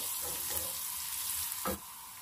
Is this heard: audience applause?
no